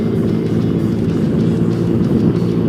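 A Yamaha Mio J scooter engine runs at steady high revs, a loud continuous close-up drone with no talk over it.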